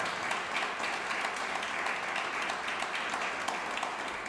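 During an evening church service, a congregation keeps up steady applause in praise, an even, sustained patter of many clapping hands, moderately loud and uninterrupted throughout.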